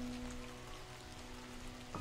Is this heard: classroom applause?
no